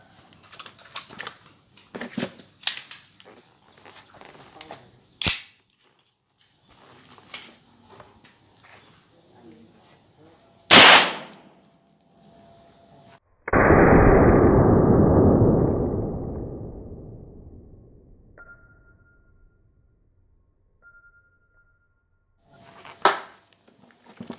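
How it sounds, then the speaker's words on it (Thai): A Beretta 92 FS pistol fires 9mm lead bullets into a roughly four-inch bundle of books. Two sharp, loud shots ring out, followed by a long, loud rushing burst that fades out slowly. Quieter clatter and sounds of movement come between the shots, and a final sharp crack lands near the end. "ปืนบาเลต้า 92 fs จะยิงมัดหนังสือความหนาประมาณ 4 นิ้วนะครับ"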